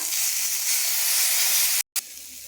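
Poppy seed and cashew paste sizzles steadily in a hot pan for paneer curry, a loud broadband hiss that stops abruptly near the end and quickly resumes.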